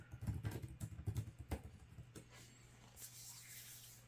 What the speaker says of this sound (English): I'll show you typing a search in here so you can sort of see how it responds straight away